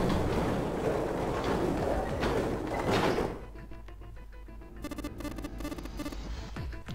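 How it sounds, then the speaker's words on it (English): A heavy gate in the game 999: 9 Hours 9 Persons 9 Doors is pushed open, a loud, rumbling scrape for about three seconds that gives way to a quieter stretch of clattering knocks. "they both pushed, and the gate creaked open"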